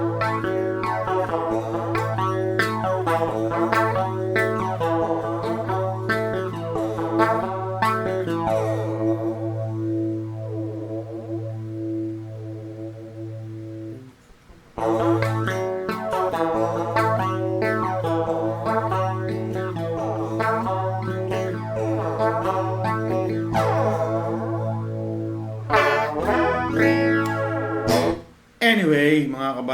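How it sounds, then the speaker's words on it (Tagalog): A classic Boss BF-3 flanger pedal colors an electric guitar through two long played passages separated by a brief pause, the strummed chords and notes carrying a swirling, sweeping effect, steady and up close without speech. "so yun ang tunog ng ating flanger BF3 ng Boss."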